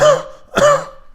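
A voice imitates the coarse, barking bovine cough of bronchitis: two harsh, loud throat-clearing coughs close to the microphone, separated by a brief pause.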